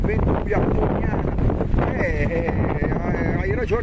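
Strong wind gusts roar across the microphone on a hillside at Brunate, a loud, constant buffeting rumble with a voice audible over it.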